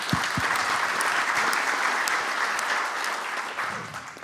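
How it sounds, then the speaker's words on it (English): Applause from the audience at an annual security forum in Kyiv, a full, sustained round of clapping with a few sharp close claps at the start, easing slightly toward the end. "This applause are for you."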